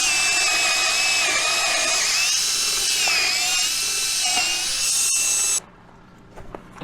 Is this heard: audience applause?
no